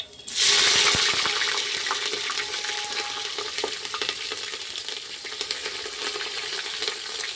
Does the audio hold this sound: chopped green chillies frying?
yes